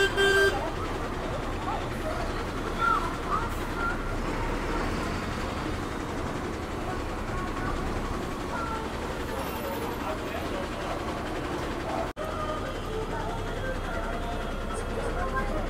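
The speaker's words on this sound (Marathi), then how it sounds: "पनवेलच्या एस टी डेपोला गाडी आलेली आहे" MSRTC ST bus pulling out of the Panvel depot, with a steady engine rumble and busy depot traffic noise throughout, a few short horn toots near the start, and voices talking in the background.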